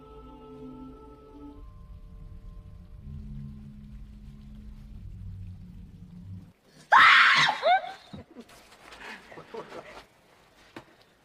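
A girl screams in fright in a film, one sudden loud shrill cry after a quiet stretch of low music, followed by shorter gasping sounds that fade out.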